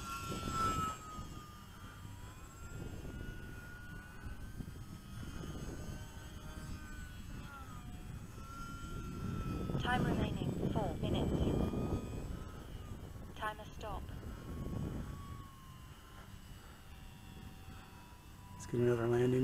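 Small E-flite UMX Timber RC airplane taking off and flying at low power, its thin electric motor whine drifting and rising around the middle, while people talk throughout.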